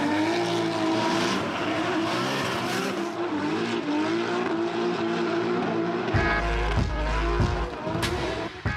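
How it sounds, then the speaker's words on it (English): A drift car slides sideways around a street track, its engine droning and wavering steadily as tires squeal and scrub, loud and close throughout, rising into a heavier rumble near the end. "Drifting on the street, that's what it's all about."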